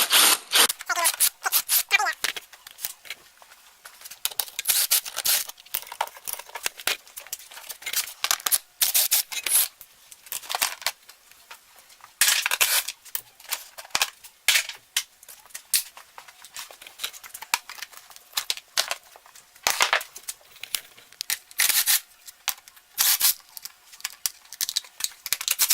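Seat and plastic body panels come off an RM125 dirt bike: dense bursts of clicking, snapping plastic and rustling, close up and irregular, with brief pauses between clusters.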